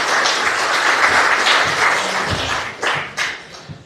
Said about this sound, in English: give Dr. Graham a bit of a clap